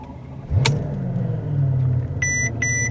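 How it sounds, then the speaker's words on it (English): A Mercedes S65 AMG V12 engine cranks and catches with a sharp burst, then settles into a deep, steady idle rumble, with a couple of short electronic beeps near the end. "when you fire it up, the sound that it makes. It's the sound only a V12 is going to make."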